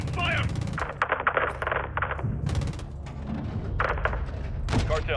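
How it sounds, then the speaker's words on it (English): Rapid bursts of automatic gunfire from Modern Warfare 2 (2022), a loud, dense close-range firefight with repeated volleys and heavy thumps, with voices calling out at times. "Taking effective fire!"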